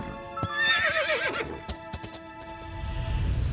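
A brumby, a wild Australian horse, whinnies loudly with a long wavering neigh, followed by scattered hoof clops and snorts in a snowy outdoor setting, with no talk.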